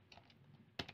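Keys on a computer keyboard are tapped in a short, quiet burst during a PostmarketOS setup on an Asus Chromebit CS10, ending with one sharper, louder keystroke.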